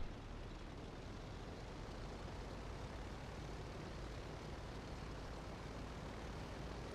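A propeller airplane in GTA 5 drones with a steady, continuous engine roar, loud and unchanging throughout with no voices.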